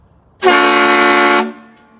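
Kleinn bolt-on train horn on a Ram 1500 pickup: a single loud, blaring one-second blast with a rich, multi-tone air-horn chord that cuts off cleanly, with a brief fading tail.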